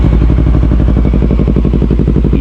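A motorcycle idles through an Akrapovic M1 exhaust, giving a loud, close, deep bassy rumble with a steady, even pulse and no revving.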